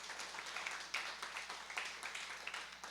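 Applause from a church class congregation, dense clapping throughout at moderate distance, steady and continuous without voices standing out.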